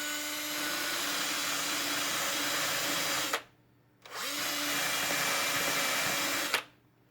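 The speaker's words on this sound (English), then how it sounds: "Alright, let's sand it." A sanding mop spun by a power drill whirs loudly against spackling on trim in two sustained bursts of about three seconds each, separated by a brief stop and quiet.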